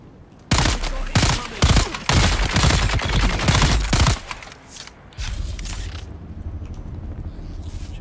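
Minigun fire in the video game Dune Awakening: a loud, sustained rattling burst lasting several seconds, then quieter rumbling and scattered mechanical clicks.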